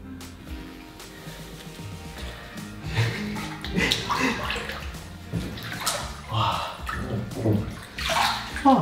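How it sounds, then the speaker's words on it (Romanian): Water splashes and runs unevenly from a shower at a spa, with sloshing and spattering that swell louder toward the end, while a voice speaks in the background. "Urmează să intru să fac un dușuleț"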